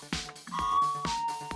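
Hit alert from a GRS detection device: a pair of electronic tones with sustained pitched notes, sounding twice in quick succession, close and clear with no talking.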